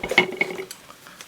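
Metal parts of a Trangia storm cooker set clink and clatter as they are pulled apart, a few bright close metallic knocks that fade into quiet handling.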